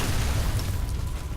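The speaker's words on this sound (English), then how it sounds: "you missed the explosion" Deep, rumbling boom from an in-game blast in the Alpha Protocol video game, a continuous loud low-end roar sustained through the whole short moment with no voices over it.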